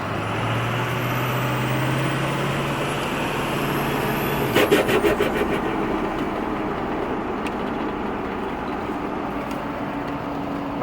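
Ford F250 with a 6.0 Powerstroke diesel driving with an unwanted vibration, a steady loud road and engine drone throughout with a brief rattling burst midway.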